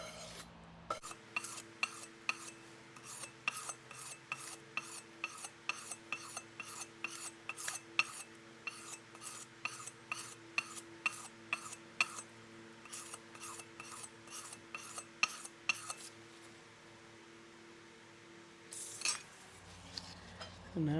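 A strap end punch for leathercraft is rubbed over 220 grit sandpaper in quick, regular scraping strokes, a close, even rasp repeated many times before a short pause near the end.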